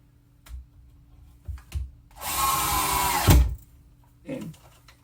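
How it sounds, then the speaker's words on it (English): A screw gun drives a Phillips head screw in one steady whir of about a second, ending with a low thump as the screw seats, set between scattered handling knocks. "that's how you do it with a screw gun"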